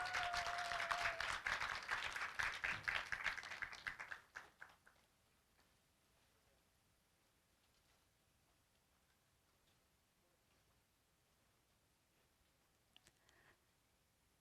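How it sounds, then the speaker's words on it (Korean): An audience at the 8th Korea Online Journalism Awards applauds in a hall, steady clapping that lasts about four seconds and then stops abruptly, leaving near silence with a faint tap or two. "박수와 함께 축하해 주시기 바랍니다."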